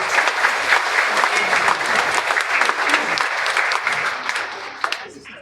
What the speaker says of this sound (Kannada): ಎಲ್ಲ ಜೋರಾಗಿ ಚಪ್ಪಾಳೆ ತಟ್ಟಿ